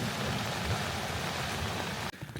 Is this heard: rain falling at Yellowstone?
yes